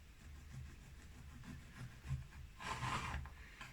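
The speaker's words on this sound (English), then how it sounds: "I'm gonna give it a slice." A knife saws through a loaf of no-yeast whole wheat bread with quiet rasping strokes, rubbing softly and then growing louder and crunchier near the end.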